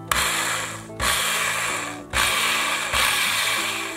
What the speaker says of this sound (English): I want to drill out the holes first